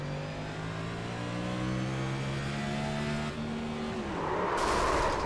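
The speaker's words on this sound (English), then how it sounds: "We're gonna listen to his gearbox." A race car engine in a racing video game revs in steady rising harmonic tones, then the pitch drops sharply as the gearbox is shifted into the wrong gear. A harsher, noisy burst follows, loud and close, with no talking.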